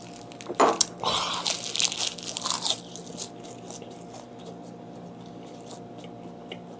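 Dried Pacific saury gwamegi from Pohang being bitten and chewed up close, a few crisp crunches in the first three seconds, then quieter faint chewing over background room noise.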